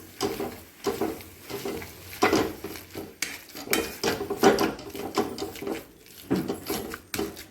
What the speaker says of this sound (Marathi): असं मिक्स करून घ्यायचं आहे मसाला आणि बटाटा एकत्रित मिक्स झालं पाहिजे